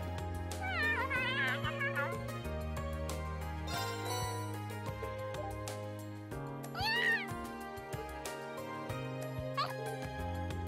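A black cat in the video game Trails of Cold Steel gives several high, wavering meows over looping game music, with a speaking voice in the background.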